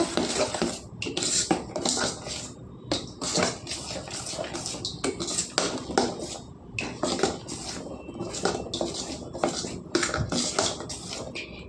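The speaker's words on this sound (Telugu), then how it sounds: "ఇదంతా బాగా కలుపుకోవాలండి కలిసేలాగా" Jowar dosa batter being mixed in a bowl, a rapid, continuous clatter of a utensil knocking and scraping against the bowl, close up and with no voices.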